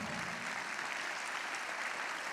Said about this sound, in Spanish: Aplauda fuerte.